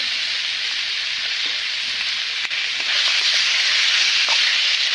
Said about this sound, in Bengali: আমি মাংসগুলো দিয়ে এখন ভালোভাবে কষিয়ে নেব